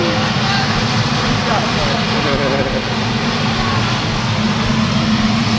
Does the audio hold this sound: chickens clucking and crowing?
no